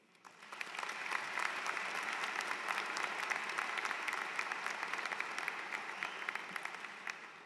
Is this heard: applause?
yes